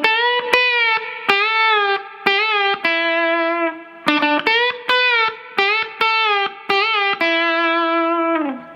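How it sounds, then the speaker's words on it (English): Electric guitar with a distorted, effects-laden tone plays bending lead licks, a series of sustained, sliding notes broken by sharp picked attacks, loud and close with no voices. "George is going to have some very cool bend-in licks there"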